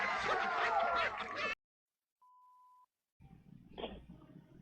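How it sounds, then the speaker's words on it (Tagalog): A single steady electronic beep from a telephone keypad button sounds in a quiet gap, between stretches of muffled background noise and voices. "Tingnan mo kung sino pumipindot ng telepono natin."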